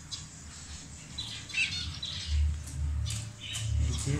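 Budgerigar squawking while sitting on a clutch of ten eggs in a rooftop breeding setup, several short harsh squawks and chirps close by, fairly faint, no talk.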